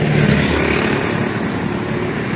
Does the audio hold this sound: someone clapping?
no